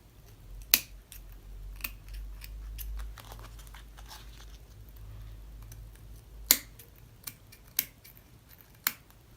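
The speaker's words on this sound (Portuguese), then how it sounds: "Vou cortar o excesso." Scissors trimming excess lace and bias trim on a sewing project in a quiet room, a few sharp isolated snips spaced irregularly over a faint low hum.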